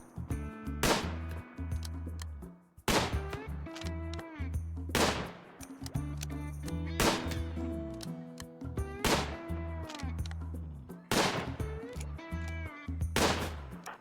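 RimWorld gunfire aimed at dinosaurs, with sharp, loud shots repeating about every two seconds, each ringing briefly against a steady background of game sound and no talk.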